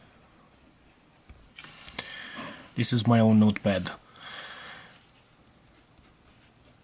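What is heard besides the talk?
writing with Diplomat Excellence A2 fountain pen on Mondi paper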